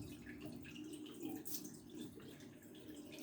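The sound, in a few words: water running from a tap while rinsing face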